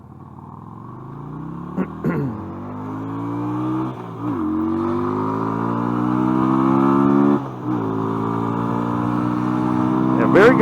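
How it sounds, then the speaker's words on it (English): A 2013 Yamaha V Star 250 motorcycle accelerates hard through several gears, its engine note climbing steadily with brief dips at each shift, loud and close throughout. "For a bike this size, this thing actually accelerates very good."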